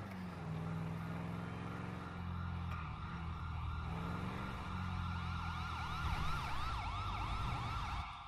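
A wailing ambulance siren in GTA V sweeps up and down steadily over a low engine drone, loud and continuous, with a rapid yelp pattern near the end.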